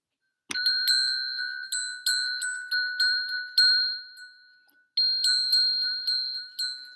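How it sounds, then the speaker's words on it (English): A meditation bell struck once, then rung repeatedly in a quick series of clear, bright metallic chimes that each ring out and decay, with a brief pause before another run of strikes, all heard alone against silence. "I'll use my bell"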